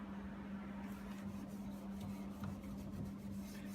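0000 steel wool rubs lightly over a wood finish on a broken pediment, making a quiet, steady scratchy swishing in quick repeated strokes over a low constant hum.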